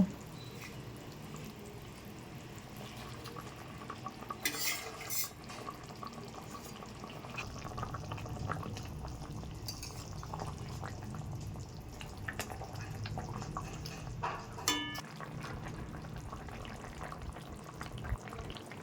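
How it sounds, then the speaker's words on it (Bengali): Fish curry sauce for parshe fish bubbles steadily in a pot, a soft continuous simmering hiss with occasional drips and light splashes, no talking. "ঝোল ভালো করে ফুটে উঠেছে"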